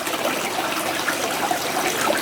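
Water trickles and flows steadily through a 12 volt portable gemstone jig used for sapphires, a continuous wet, splashy wash with no voices.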